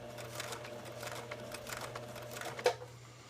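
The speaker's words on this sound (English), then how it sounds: "I'm going to sew a little bit more." Sewing machine stitching a small Tilda fabric doll, a soft steady whirring with light ticking, close and quiet, stopping near the end.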